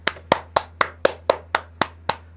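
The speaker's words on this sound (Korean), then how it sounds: "박수." Eight sharp, evenly spaced hand claps at a brisk steady beat, close and dry, ending a music education lecture.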